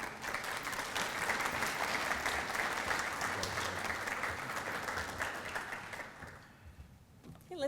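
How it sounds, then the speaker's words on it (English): An audience at a breakfast event applauds essay contest winners, a sustained, moderately loud round of many hands that fades out over the last second or so. "let's give them all a round of applause again"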